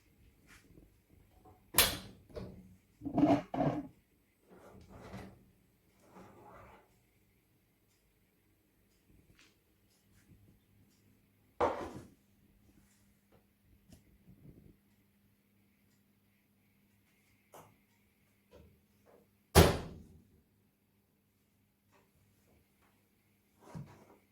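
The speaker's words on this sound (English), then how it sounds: "So I'm going to pull it out of the oven now." An oven door opens and a baked white farmhouse loaf is pulled out, heard as a few scattered close clunks and knocks separated by long quiet gaps.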